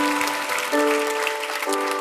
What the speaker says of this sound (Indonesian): Berikan tepuk tangan sekali lagi untuk mereka yang mau dibaptis minggu depan.